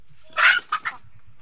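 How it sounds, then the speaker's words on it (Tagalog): Poultry on a farm give a short burst of clucking up close, one loud squawk followed by two quicker clucks, with no voices. "mayroon pa palang poultry dito ah"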